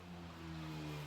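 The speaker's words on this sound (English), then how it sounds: "Motorbike." A motor engine drones steadily at a distance with a low, even hum that slowly rises, no voices over it.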